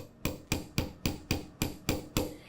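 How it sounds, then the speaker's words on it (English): A chasing hammer striking a wire leaf pendant, eight sharp evenly spaced metallic taps about a third of a second apart, close and clear with no talk. "I'm concentrating my hammer strikes more on the middle of my leaf right there"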